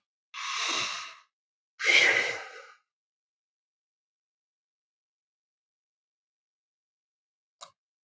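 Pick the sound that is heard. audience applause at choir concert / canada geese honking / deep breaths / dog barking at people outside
deep breaths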